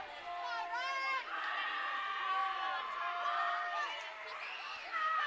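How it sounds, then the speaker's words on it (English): A boys' high school basketball crowd cheers and shouts through a free throw, excited voices and whoops rising and falling, faint and somewhat distant, with an announcer talking over it. "the voices in blue cheer as Connell knocks home the"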